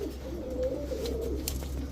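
A big male pigeon gives soft low coos, a short burbling call heard once or twice at moderate distance over faint background hum, with no talking.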